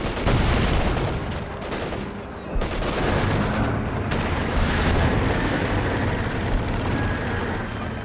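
Artillery shells falling in Company of Heroes 2, a dense continuous barrage of loud booming impacts and crackling blasts, with a sharp burst near the start and steady explosions afterward, mostly with no voice over it.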